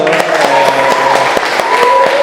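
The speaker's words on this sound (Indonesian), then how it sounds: "Berikan aplaus dulu" A classroom breaks into applause, with a loud, steady patter of clapping hands close by. A sustained tone runs faintly underneath.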